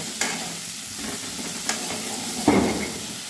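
Tomatoes and pumpkin fry in a pan with a soft, constant sizzle. A spoon stirs them three times, each a distinct scrape, the last the loudest. The sound is close and there is no talk.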